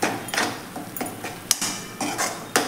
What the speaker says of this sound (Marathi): आता आपण हे सगळं व्यवस्थित मिक्स करून घेऊयात आणि परतूयात आपण हे।